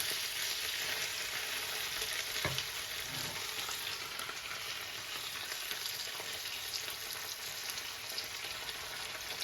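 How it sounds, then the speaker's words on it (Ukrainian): Chicken liver fries in a pan as it is stirred, giving a constant crackling sizzle with one sharp knock of the utensil early on and light scraping moving through the hiss. "зараз ми її перемішуємо"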